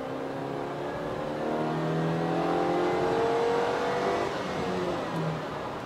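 A 2020 Subaru Forester e-BOXER hybrid accelerates at full throttle in sport mode from about 50 km/h, its engine note climbing steadily in pitch from inside the cabin, a smooth continuous whine with no talk.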